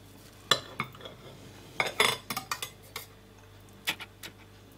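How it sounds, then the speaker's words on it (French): Knife cutting a slice from a chocolate cake, with sharp clinks and taps of blade and plate in an irregular cluster, close by in a quiet kitchen, no talking. "Je vais couper une tranche pour voir l'intérieur."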